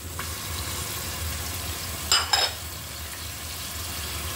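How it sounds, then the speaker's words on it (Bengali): Onion and garlic paste fries in hot oil for a Barisal-style prawn dish, giving a steady soft sizzle with two sharp close clinks of a utensil against the pan midway. "তেল দিয়ে দিলাম, পেঁয়াজ বাটা দিয়ে দিচ্ছি, রসুন বাটা"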